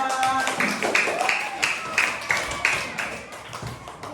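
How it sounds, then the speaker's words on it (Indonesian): Group clapping hands in a classroom-style session, uneven rhythmic claps with a voice talking over them, moderately loud and close. "tepuk tangan untuk kita semua"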